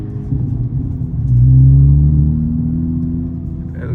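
Honda Civic Type R FL5 engine rumbling at close range, swelling into a quick blip of revs before settling back to a steady lower drone as a gear drops, with no talking.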